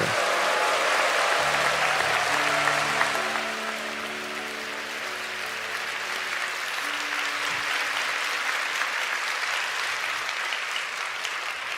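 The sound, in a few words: congregation applause and cheering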